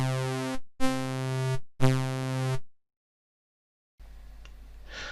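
Three sustained synthesizer notes sound in sequence, each swelling and shifting in tone, followed by silence and then a faint hiss.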